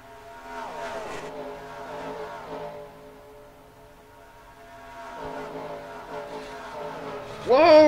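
Race cars in a racing video game at Indianapolis drone with layered engine tones as they run in a pack, then swell into a sudden loud, sharp burst as the crash begins.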